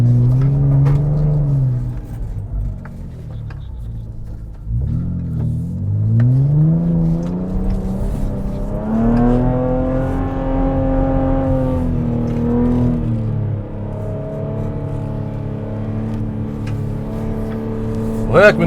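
A Nissan Patrol Safari special-edition SUV engine hums and revs as it drives, pitch rising and falling with acceleration, loud and steady throughout.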